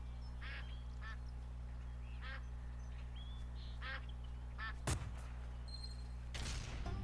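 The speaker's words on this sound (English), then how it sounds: "Wow, these ducks just keep on coming." Ducks quack repeatedly in the Duck Dynasty hunting video game, several short nasal calls at moderate distance over a steady low game hum, followed by a sharp shotgun-like blast and further game sounds.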